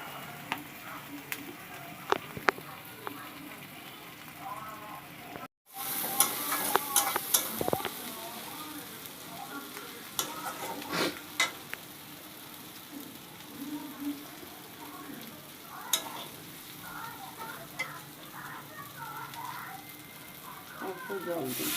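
Spices fry in a little oil in a pan while being stirred, giving a steady close sizzle with scraping stir strokes. After a brief drop-out the sizzle turns brighter and louder, and voices are heard at times.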